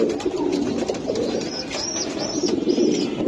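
Pigeons cooing in a loft of show breeds, a steady rolling coo close by with several birds overlapping throughout.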